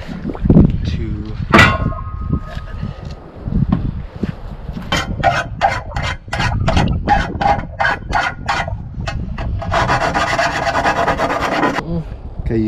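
A rasp is pushed and pulled across wood in both directions, rhythmic rough scraping strokes in bursts, with a speaker talking between strokes and a rooster crowing in the background.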